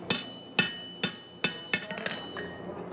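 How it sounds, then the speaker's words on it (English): Hammer blows on a wrought iron bar resting on an anvil as the smith straightens out a kink: five loud, ringing strikes at a steady rhythm, then a few lighter, quicker taps, close and without talk. "I'll go back to the anvil"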